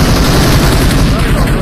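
Dense, loud automatic gunfire in the mobile battle royale game PUBG Mobile, a continuous rattling barrage that fills the whole short stretch without pause.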